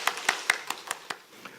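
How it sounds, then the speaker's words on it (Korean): A small group at a church mothers' prayer meeting claps in a brief, quiet burst of about seven rhythmic claps, fading toward the end. "우리 한번 크게 박수하겠습니다."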